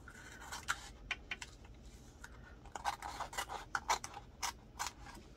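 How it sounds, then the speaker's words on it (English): Scissors trimming material at a pink anemone setup, a series of faint, close snips and scratchy cuts at irregular intervals. "let's trim this off."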